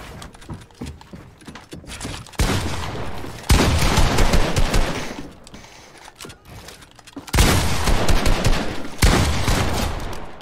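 Fortnite box fight gunfire comes in four loud bursts of rapid shots and clattering, separated by quieter gaps of game noise and footsteps.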